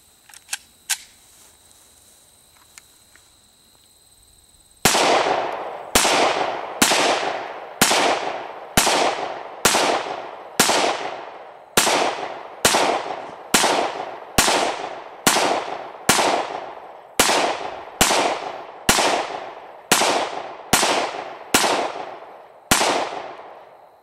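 FN 5.7 pistol shooting 20 rounds outdoors: a rapid, evenly spaced series of loud, sharp reports with short ringing decays, after a few faint knocks and near silence.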